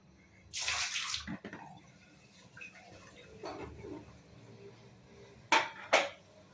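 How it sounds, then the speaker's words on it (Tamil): Water strained from a pot while making rasgulla splashes out in a heavy pour, followed by a few shorter, sharper splashes and drips. "தண்ணியை கீழே ஊற்றிடுவோம்"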